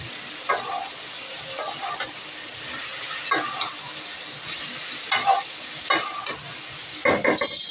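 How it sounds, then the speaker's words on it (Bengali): Potato and pointed gourd tossed into hot masala fry with a steady sizzle, while a spoon scrapes and stirs the pan in irregular clattering bursts, close and clear, with no talking. "তো এখন সবজিটা অ্যাড করে দিচ্ছি।"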